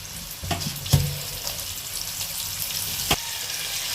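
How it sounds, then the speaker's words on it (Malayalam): Onions sautéing in hot oil left from frying chicken for a chicken kadai, a steady soft sizzle with a few sharp stirring clinks and scrapes, close and continuous with no talk. "ചിക്കൻ പൊരിച്ച എണ്ണയിൽ തന്നെ ഉള്ളി വാട്ടാണ്."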